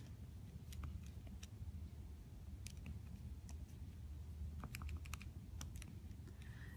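Fingers tapping the keypad of a graphing calculator, a quiet irregular run of small clicks over a low background hum.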